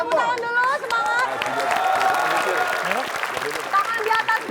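Studio audience applauding on an Indonesian TV quiz show, a dense steady wash of clapping and crowd noise that runs throughout, with a host's voice and some musical tones layered over it.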